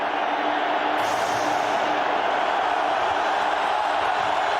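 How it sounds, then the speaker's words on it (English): A packed stadium crowd roars at a 2000 NFL game between the Tampa Bay Buccaneers and Minnesota Vikings, a loud unbroken wall of noise that holds steady throughout. "the crowd in full throat"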